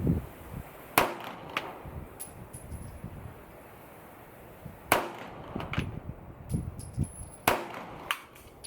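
Three loud, sharp gunshots from a CZ Shadow 2 9mm pistol firing Sig Sauer V-Crown 115-grain rounds at an outdoor range, spaced several seconds apart, with faint clatter and rustling between them.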